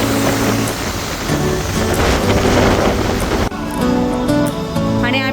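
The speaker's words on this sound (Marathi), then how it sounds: "पाऊस चालू झालेला आहे आणि आम्ही सापडलोच पावसात शेवटी" Steady heavy rain pours down during a family trip, a loud, dense hiss that fills the whole stretch with no voices over it.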